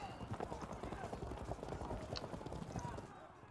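Massed light horse hooves clatter in a dense, continuous drumming through a medieval battle in Field of Glory Medieval, mixed with a broad din of battlefield noise that holds steady and loud throughout.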